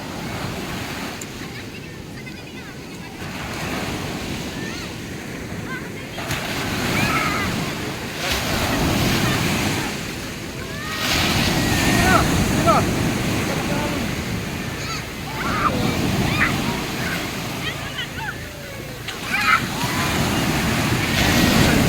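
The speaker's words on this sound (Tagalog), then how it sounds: "Grabe ang alon." Ocean waves crash and wash ashore at Tiwitiwi Beach in Legaspi, Albay, with repeated surges roughly every few seconds under gusty wind noise, loud and close.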